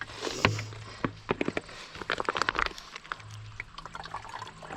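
Water trickles slowly and drips irregularly through a barely working water filter, with small splashes and gurgles close by, a low hum running underneath.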